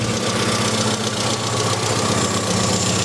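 A car engine with an SU carburettor idles steadily after a mixture adjustment back toward rich, a close, loud, even chug with a faint knocking pulse and no talking.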